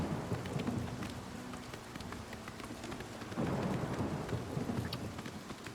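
Steady rain falls with rolling thunder in the video game The Elder Scrolls IV: Oblivion, a continuous hiss with deep rumbles swelling midway and no voices.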